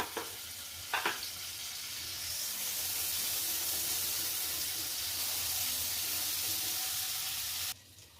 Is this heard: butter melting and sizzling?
yes